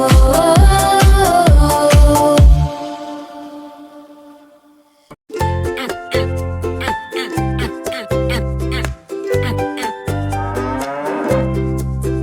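A cow lows several times within a children's song, rising over bright layered music before the melody drops out briefly and then returns with busy instrumentation.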